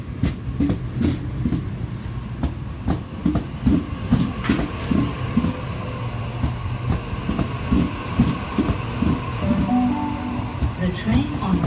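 A Sydney Trains Waratah set pulls into platform 1 at Penrith, steady low rumble with rhythmic wheel clacks over rail joints and brief squeals, continuous and fairly close throughout, with faint announcement-like voices in the background.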